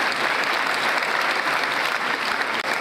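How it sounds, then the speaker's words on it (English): An audience claps steadily and loudly at a medical graduating class induction ceremony, with dense sustained applause throughout. "If we are clapping, clap for us women."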